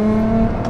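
After a paddle-shift downshift, a car engine gives a short, close rev, with a steady tonal drone under a brief swell lasting under a second.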